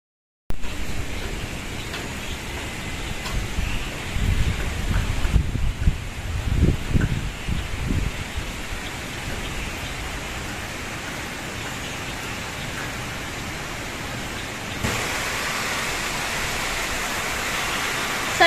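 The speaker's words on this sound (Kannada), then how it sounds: "ಸಂಜೆ ತುಂಬಾ ಜೋರಾಗಿ ಗಾಳಿ ಬೀಸ್ತಾ ಇತ್ತು" Steady wind roars outdoors with a rustling, rain-like hiss, gusting a little stronger early on, then holding a constant broad whoosh.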